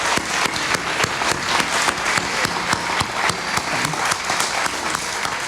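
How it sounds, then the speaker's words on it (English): A bookstore audience applauds after an author conversation, steady dense clapping filling the whole stretch at close range with no speech over it. "let's give Jennie and Jane a round of applause."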